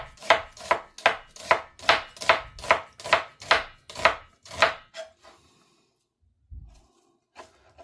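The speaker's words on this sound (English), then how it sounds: "Now I don't want too much onion. Just some very, very thin slices." A knife chops through onion on a board, cutting very thin slices with about eleven quick, even strokes over five seconds, close and crisp. A few faint handling taps follow in near silence.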